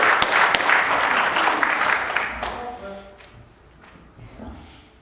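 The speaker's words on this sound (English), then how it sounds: "if we could give a round of applause for our worship team, please" A church congregation applauds its worship team, loud dense clapping that fades out over the second half and leaves a quiet room with faint low murmurs.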